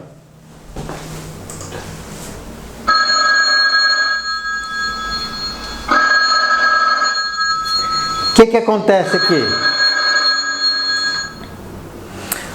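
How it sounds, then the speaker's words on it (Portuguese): A telephone bell rings in the small hours, with bursts of shrill, electronic multi-tone ringing repeating over several seconds, a short clatter partway through, and a person speaking briefly near the start. "De madrugada, o telefone está tocando"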